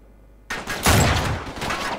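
After a quiet start, a burst of rapid gunfire erupts with sharp cracks and echoing blasts, weapons firing in quick succession in the video game Uncharted 3: Drake's Deception.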